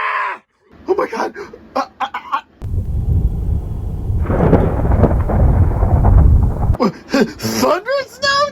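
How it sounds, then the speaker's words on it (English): Thunder during a snow blizzard: a long, heavy rumble that swells and rolls for about four seconds, with excited talking just before and after it. "Thunder and snow too?"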